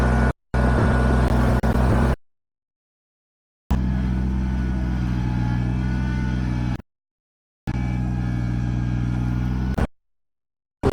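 A Kubota BX23S compact tractor works stone into a pad for a storage trailer, its steady engine droning loud and close in bursts with clean gaps of silence between them.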